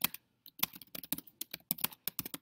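Keys clatter on a computer keyboard in quick, uneven bursts of typing with short pauses between, close and fairly quiet.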